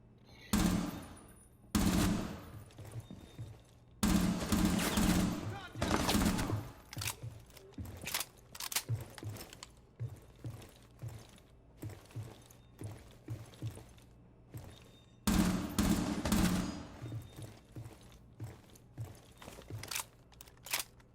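P10 RONI gunfire in Rainbow Six Siege on console, loud rapid bursts of shots in several clusters separated by short pauses, with a mechanical rattle between volleys and no talk.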